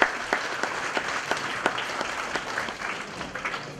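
Applause from an audience at a mawlid gathering celebrating the Prophet's birthday, held at a cultural centre in the village of Endirey, a steady patter of many hands clapping at moderate distance with small irregular peaks throughout.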